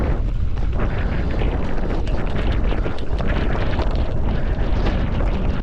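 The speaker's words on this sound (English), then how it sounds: "But yeah, that wind is picking up big time." Strong wind roars across the microphone on a mountain summit at 517 metres in the Brecon Beacons, a loud, continuous buffeting rush with gusty swells and no speech.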